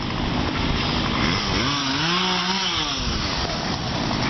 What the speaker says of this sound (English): Gotta love the ever-living song of the chainsaw.